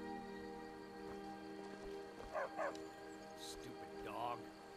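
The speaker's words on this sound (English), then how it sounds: "Stupid dog." In the video game Skyrim, a dog lets out a few brief, faint yips and whimpers over steady background game sound.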